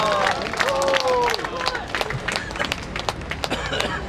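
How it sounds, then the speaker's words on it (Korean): An audience claps for a choir at a memorial ceremony for a democratic uprising, scattered clapping and murmur following a brief swell of voices, fairly close and moderately loud. "우리 합창단 분들께 큰 박수 한 번 더 부탁드리겠습니다"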